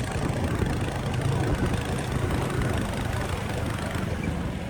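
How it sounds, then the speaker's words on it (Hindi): A motorcycle engine running steadily on a snowy mountain road toward Nathula Pass in Sikkim, a continuous close low drone with even rumble throughout. "सिर्फ मेरी बाइक की आवाज़ मुझे सुनाई देती है।"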